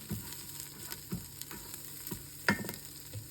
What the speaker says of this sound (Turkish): Mercimeğimi de kavuruyorum.